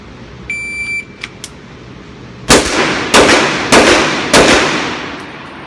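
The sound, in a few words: Sig Sauer Nightmare .357 pistol shots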